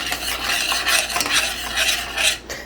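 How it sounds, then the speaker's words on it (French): A spoon stirs butter through macaroni in a pot for mac and cheese, a continuous scraping, squelching churn close by with a few louder swirls and no talking. "on vient prendre la cuillère pleine de beurre et on vient tout mélanger"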